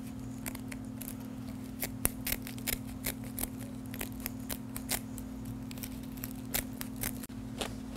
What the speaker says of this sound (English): Take your scissors and cut this material away from the metal hat band